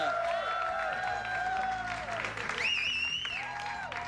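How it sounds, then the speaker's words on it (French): Arena crowd applause during third-star announcements after a hockey game, broad clapping and crowd noise under loud organ-like music and announcer tones. "Vos applaudissements, s'il vous plaît, pour Monsieur Jeff Molson."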